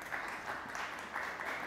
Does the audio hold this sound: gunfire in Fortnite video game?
no